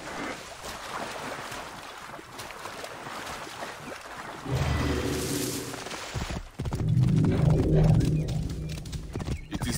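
Horse hooves galloping and clopping in Assassin's Creed Origins, with a whinny and rushing effects, louder bursts in the second half.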